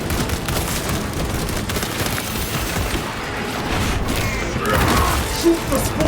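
Dense, continuous gunfire in Warhammer 40k Space Marine 2 as spore mines are shot, rapid loud bursts and booms layered with mechanical clatter and a chaotic battle din.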